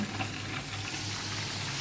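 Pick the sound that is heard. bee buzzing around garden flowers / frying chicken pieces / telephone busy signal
frying chicken pieces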